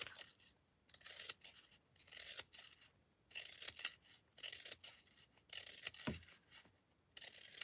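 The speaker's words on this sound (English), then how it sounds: "And keep cutting. Just try not to cut through the top." Scissors snip repeatedly through tassel thread in a craft setting, a close, quiet series of crisp rasping cuts in an uneven rhythm with short pauses between them.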